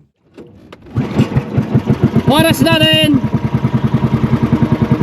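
Fishing boat engine starting up and settling into a loud, rhythmic chugging close by, with a brief whining rev in the middle and a person speaking near the start.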